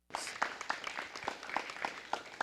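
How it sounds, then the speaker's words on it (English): Crowd at a county fair 4-H and FFA junior poultry show applauding the junior exhibitors, a soft, fairly distant patter of many hands clapping that starts abruptly and continues steadily. "Let's give them a nice round of applause."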